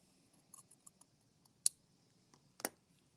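Scissors cutting fabric during sewing, a few quiet snips and clicks spread out, with two sharper closing snaps, faint and close.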